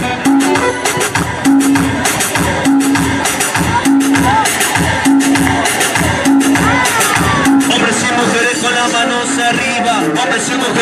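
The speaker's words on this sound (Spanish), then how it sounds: "Venga, fuertes los aplausos." Crowd of mothers at the San Rafael Arnaiz school cheering and applauding loudly, dense continuous noise over music with a steady beat.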